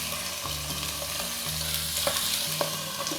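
Chicken liver fries in a thin layer of oil in a pan, a steady close hiss with occasional stirring scrapes and small pops, no voices.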